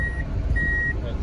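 A 2006 Mitsubishi box truck with a lift gate sounds its reversing beeper: long steady electronic tones with short gaps, heard over a low idling engine rumble, moderately quiet and close.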